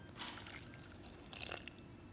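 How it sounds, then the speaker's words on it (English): Water trickles and splashes into a pot, a faint, brief pour of about half a cup with light dripping against a quiet room hum. "I'm going to try 1/2 cup of water"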